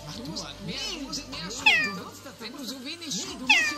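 A cat meows twice in a video game, short upward-gliding cries that stand out clearly over ongoing speech.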